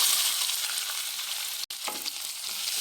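Green chili, ginger, garlic and onion fry in hot ghee for egg rice, a steady close sizzle with a brief stir and a faint clink partway through.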